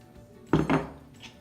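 Vegan soft pretzel dough being mixed in a bowl: two quick knocks and scrapes of a utensil against the bowl, close and fairly quiet, with a faint tap afterward.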